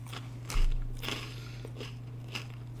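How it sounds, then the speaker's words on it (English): Close, crisp crunches of pickle-flavoured puffed snacks being chewed, one loud bite followed by several softer crackling chews spaced out over a few seconds, with no talking. "You can probably hear me crunch."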